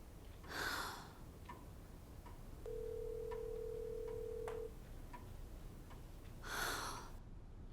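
A telephone rings while waiting for pickup: a single long steady ring tone between two softer burbling trill bursts, heard faintly through a receiver over a low hiss.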